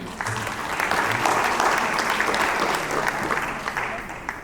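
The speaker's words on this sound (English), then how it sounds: "I would like to request you to have a big round of applause all together." Audience at a summit inaugural session breaks into sustained applause, steady clapping that swells and holds for several seconds with a little voice underneath.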